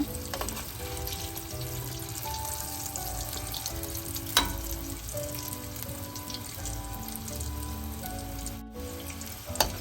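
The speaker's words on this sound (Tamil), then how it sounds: "அடுப்பை மீடியம் ஹீட்டில் வச்சு கொண்டு தான் இதை பொரிச்சு எடுக்கணும்" Green gram susiyam deep-fries in oil over medium heat, a faint, steady crackling sizzle that runs throughout with a few soft clinks.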